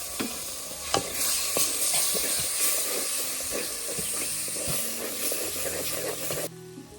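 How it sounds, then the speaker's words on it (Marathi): Masala with garlic-coconut paste sizzles and fries in a hot pan for a chicken kala rassa curry, steady hissing with repeated spoon scrapes and stirring knocks, close and continuous, a spoonful of soup added to keep it from burning. "हे सूप टाकत टाकतच मी हा मसाला आणि लसूण खोबऱ्याची पेस्ट छान अशी परतून घेणार आहे"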